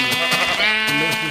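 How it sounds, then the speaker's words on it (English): Sheep in the video game Minecraft bleat loudly and close by, a few quick wavering calls in a short burst with no talking. "Sheepy sheep, to the slaughter."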